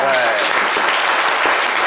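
A studio audience applauding for a guest named Lambert on a live talk show, dense sustained clapping with a voice heard over it near the start.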